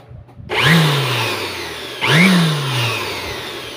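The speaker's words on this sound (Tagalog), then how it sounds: "susubukan na natin i-blower yung loob" A handheld air blower roars twice as it blasts dust out of a desktop computer system unit, each burst rising sharply in pitch and then settling into a steady loud whoosh.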